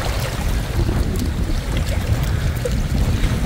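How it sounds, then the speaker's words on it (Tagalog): Evening waves break against rocks along the seashore at Boulevard Road in Masbate City, a steady, full roar of surf and water wash with wind rushing across the microphone throughout. "Ang mga hampas na ang alon sa bato."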